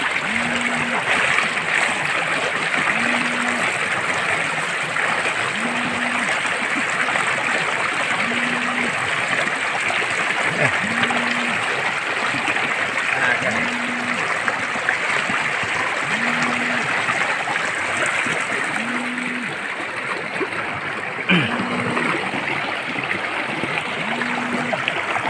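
A stream in Barangay Maputi, Banaybanay, Davao Oriental flows with a steady, broadband rushing and babbling that runs without a break. A faint, regular tonal pulse repeats underneath about every two seconds.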